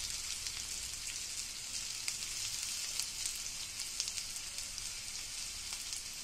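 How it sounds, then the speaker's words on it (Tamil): Onions frying in oil until browned for a bitter gourd fry, a dense, steady sizzle with small crackling pops throughout, close and even, with no voices. "வெங்காயம் நல்லா செவக்கிற அளவுக்கு வறுக்கணும்"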